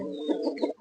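A hen of a native Thai fighting-cock breed clucks in a short burst of a few close, throaty notes, heard alone.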